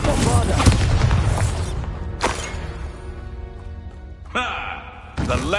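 Booming spell explosions from Bombarda and Confringo in the Hogwarts Legacy video game, loud blasts and crashes layered with a player shouting, followed by quieter in-game sounds.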